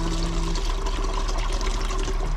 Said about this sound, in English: I'm just gonna take the bowl off and pour it